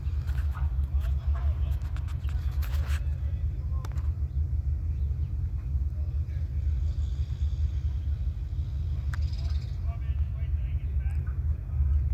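A loud car passes near Rocky Mountain Labs in Hamilton, Montana, its deep, heavy rumble filling the whole stretch at a steady, close level.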